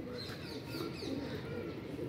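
Highflyer pigeons in flight during training, giving soft cooing and chirping calls over a steady outdoor background hiss, moderately faint and continuous without any talking.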